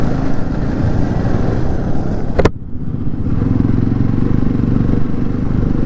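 Motorbikes travel a mountain road between Pokhara and Kathmandu as it reopens after a landslide, engines rumbling steadily nearby, with a sharp clattering knock partway through and continuous traffic drone afterward.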